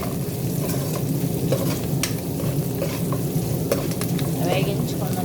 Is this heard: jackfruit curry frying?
yes